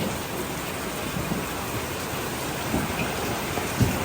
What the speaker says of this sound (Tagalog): Napakalakas nga po ng ulan,